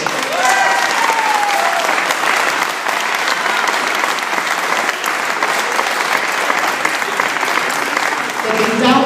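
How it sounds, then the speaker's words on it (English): A crowd at the York City victory parade gives a long, loud round of applause, continuous dense clapping that holds steady for many seconds, with a voice faintly audible at the start. "we should give this administration a round of applause"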